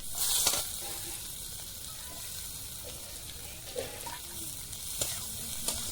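Onion, dried red chili and black cumin (kalonji) fry in oil for a village water lily stalk and prawn dish, giving a soft, continuous sizzle with a few scraping stirs and clinks close by, no voices.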